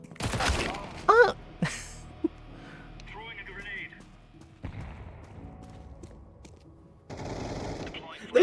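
Bursts of Negev machine gun fire in a shooting video game, rapid crackling volleys punctuated by thuds, mixed with excited talking and exclamations from the player.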